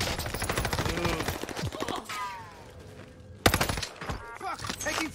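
Rapid automatic gunfire in Call of Duty: Vanguard, with dense bursts of shots at the start, a short lull, then another loud volley, close and sharp, with a few speech sounds mixed in.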